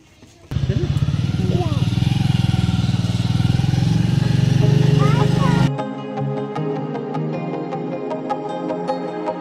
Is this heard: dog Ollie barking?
no